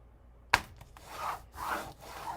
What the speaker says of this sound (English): let's give this all a good burnish